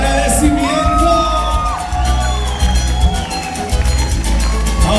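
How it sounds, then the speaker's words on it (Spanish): A church congregation bursts into whoops, cheers and shouts of thanks, voices overlapping loudly over ongoing music and a busy crowd din. "¿Alguien tiene un grito de agradecimiento?"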